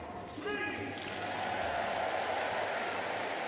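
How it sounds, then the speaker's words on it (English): Crowd applause for a speed skater at the European Championships in Heerenveen, a steady indoor ovation rising after a brief opening and continuing evenly to the end, heard somewhat distantly in a large arena. "gives a round of applause to Bart Swings"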